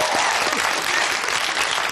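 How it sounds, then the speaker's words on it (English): Contestants on a 1994 British TV game show clap for themselves in the studio, a dense, loud burst of applause that fills the short moment without letup. "You're the first English contestants I've ever seen clap themselves"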